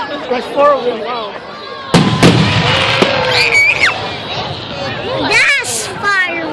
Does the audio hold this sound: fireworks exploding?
yes